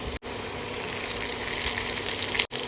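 Chopped tomato drops into a pan of taro and potato frying in oil, giving a steady, close, broadband sizzle with two brief breaks and no talk.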